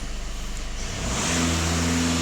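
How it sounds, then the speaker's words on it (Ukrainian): A VW Passat B8 Alltrack engine revs up from a steady idle to a louder, higher sustained drone, close by, during a DPF and EGR system cleaning. "Автомобіль сам регулює оберти"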